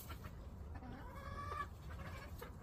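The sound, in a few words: white chicken clucking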